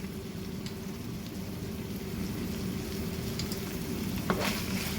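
Ground meat sizzles as it browns in a pan for a cheeseburger spaghetti squash casserole, a steady close crackle with a faint scrape near the end.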